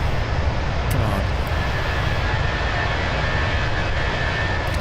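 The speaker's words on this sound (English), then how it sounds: "Look at these IAE engines." IAE jet engines on an A320 in Microsoft Flight Simulator 2020 produce a steady, loud, broadband roar with a low rumble, continuous throughout, while a voice talks over it.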